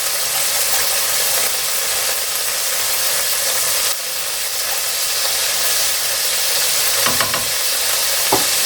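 Paprika going into a pan of frying rogan josh, a loud continuous sizzle with faint stirring scrapes near the end, no talking.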